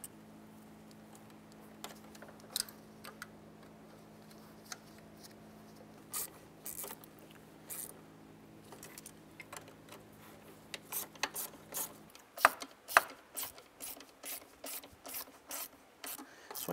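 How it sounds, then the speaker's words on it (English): Throttle body screws on a 2005-2010 Jeep Grand Cherokee are snugged down with a ratchet, giving quiet repeated ticking clicks that become a faster, crisper run near the end, close up. "we'll go ahead and snug them up in a crisscross pattern"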